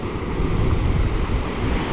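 Waves wash onto the beach at Cala Llentia, Ibiza, as a steady, loud, rumbling roar. Wind noise buffets the microphone and blurs the surf.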